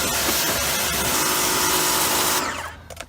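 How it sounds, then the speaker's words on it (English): A power washer sprays down a wooden butcher block table, a steady loud hissing roar that runs continuously before cutting off near the end. "And that's about it for power washing"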